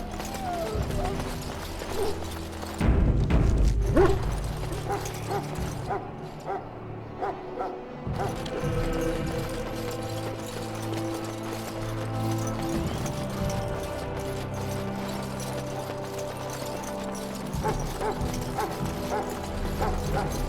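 Hounds in the video game Dragon Age barking and yipping in a medieval setting, repeated barks heard over game music and ambience, with a brief louder stretch early on.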